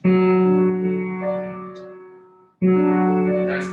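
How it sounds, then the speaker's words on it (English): Two long, sustained bowed notes on a cello, rich and resonant, separated by a brief break. "That's the cello,"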